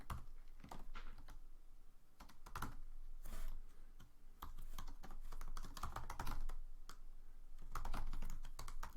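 Keys on a computer keyboard clatter in quick irregular bursts, close and moderately quiet, with short pauses between runs of typing and no voices.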